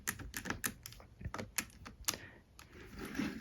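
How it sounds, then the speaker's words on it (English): Fingers pressing the physical keys of a Braille Plus braille keyboard, a quick uneven series of close, crisp clacks and taps, moderately quiet, with a soft rustle toward the end and no speech. "So if you turn it sideways, you can type on these actual keys."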